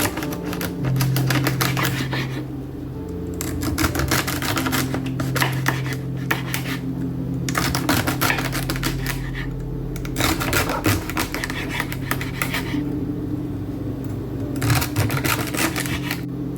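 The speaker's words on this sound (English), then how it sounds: "Now we're gonna go ahead and cut up our celery." Rapid, crisp knife chops through celery on a cutting board come in bursts with short pauses, close and fairly loud over a low steady hum.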